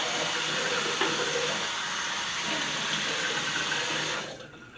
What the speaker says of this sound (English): Just rinse everything off.